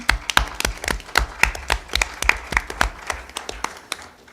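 Audience at a county school board meeting clapping for the school principals and staff, a steady run of sharp individual claps from a modest group, fairly close and without voices.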